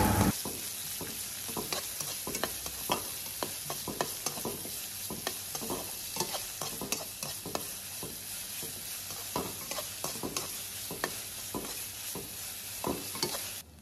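Onions frying in oil with curry leaves in a pan, a steady bright sizzle with a regular rhythm of spatula scrapes and stirs, close and alone.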